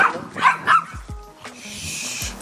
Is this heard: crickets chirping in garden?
no